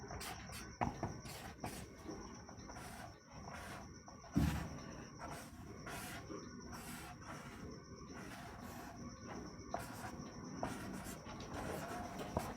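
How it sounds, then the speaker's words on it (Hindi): A teacher writes a question on a classroom board, a steady run of scratchy marker or chalk strokes with short pauses between words, close and fairly quiet, and no one speaks over it. "चलिए एक क्वेश्चन और मैं आपके लिए लिखता हूँ"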